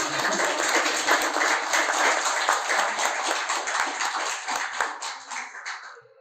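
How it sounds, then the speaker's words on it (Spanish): An audience gives a dense, lively round of hand clapping for a doctor at a poetry gathering, steady and close for about six seconds before tapering off at the end. "vamos a dar fuertes palmas al doctor Abraham Sánchez, por favor"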